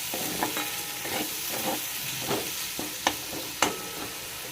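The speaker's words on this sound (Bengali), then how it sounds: "আদা রসুনটা হালকা ভাজা হয়ে এসছে" Ginger, garlic and green chilli paste frying in a pan, a steady soft sizzle broken by several sharp scraping stirs, close and alone with no talk.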